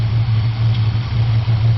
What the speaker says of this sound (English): Everything's idling good.